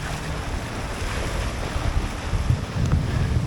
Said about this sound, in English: In fact, we've almost got waves down here.